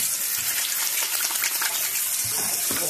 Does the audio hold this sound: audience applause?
no